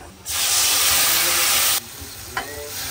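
Spices hit a hot pot of beef biryani and set off a loud, steady hiss and sizzle that lasts over a second, then drops to a quieter bubbling with a small clink of stirring.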